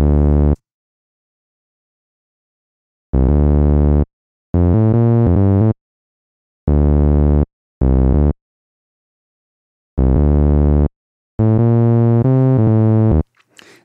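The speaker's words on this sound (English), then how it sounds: "I'm also going to add a basic synthesizer sound, so this will start sounding a little more electronic." Basic electronic synthesizer voice playing a handful of sustained, tonal notes in separated phrases with silent gaps between, clean and fairly loud, no talking.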